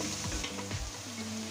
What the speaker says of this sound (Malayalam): അതിലോട്ട് നല്ലപോലെ ചെറുതായിട്ടൊന്ന് ഇളക്കി കൊടുക്കുക.